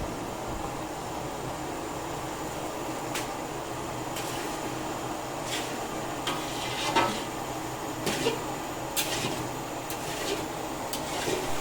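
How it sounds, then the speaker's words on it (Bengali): Taro leaves (kochu shak) stirred in a pan, with scattered clinks and scrapes of a utensil over steady sizzling and background hum, no talking. "কচুর শাক সবসময় নাড়তে থাকতে হবে"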